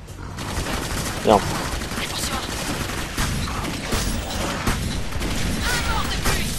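Gunfire in the action shooter Clive Barker's Jericho, loud and continuous bursts of automatic fire with occasional heavier impacts, layered under someone talking and a brief exclamation.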